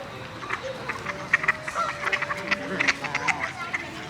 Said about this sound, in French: Ce sont des oies.